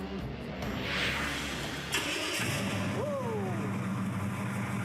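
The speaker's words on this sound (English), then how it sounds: "The sound of the engine's got him all worked up." The engine of a restored Chevrolet El Camino runs at a steady, low idle. The rumble is fairly faint and continuous, with a few faint higher sounds over it.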